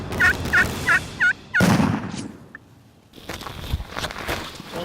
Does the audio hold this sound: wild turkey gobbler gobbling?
yes